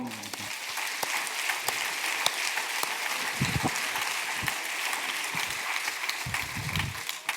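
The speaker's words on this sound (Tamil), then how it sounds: "சேர்ந்தவங்களாம் கைதட்டுங்க பார்ப்போம்" A church congregation claps along during a Tamil sermon, with continuous crowd clapping and a few sharper individual claps standing out, while a voice speaks intermittently over it.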